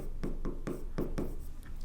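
Pen scratching out an accounting equation on paper, five or six short, soft strokes in a steady rhythm, close and quiet with no talking.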